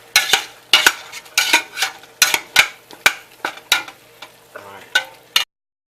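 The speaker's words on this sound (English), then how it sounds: "We want to stir them together real good." Ingredients for Algerian chorba are stirred in a pot, a series of about a dozen brisk, close scraping strokes with a light sizzle between them, each stroke rising and fading before the sound stops abruptly.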